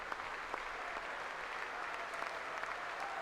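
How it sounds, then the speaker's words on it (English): Audience standing and applauding: dense, sustained clapping from a large crowd at a steady level, with faint voices mixed in. "everyone's standing and applauding"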